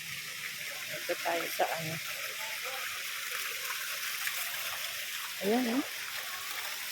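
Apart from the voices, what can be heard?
water flowing from a natural spring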